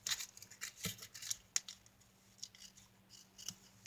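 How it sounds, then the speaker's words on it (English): Scissors snip repeatedly through the edges of a book cover, a series of short, sharp cuts close by with brief pauses between them and no talking. "And I will cut the edges here."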